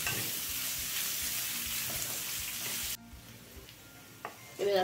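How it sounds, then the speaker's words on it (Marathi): Chopped onion sautéing in a hot pan gives a loud, steady frying sizzle for about three seconds. The noise then drops off sharply to a faint hiss, with a small clatter near the end. "कांदा आपण गुलाबी रंगावरती परतून घेऊयात।"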